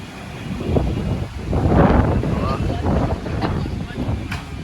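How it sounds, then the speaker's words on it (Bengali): Strong stormy wind gusts buffet the microphone outdoors before a storm, a loud rushing roar rising and falling in waves, with a voice speaking over it. "পুরো ঝোড়ো হাওয়া ছাড়ছে"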